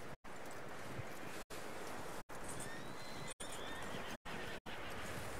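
A horse in Red Dead Redemption 2 whinnies loudly, its neigh rising and falling, with clip-clopping hooves nearby and short abrupt silences breaking the sound.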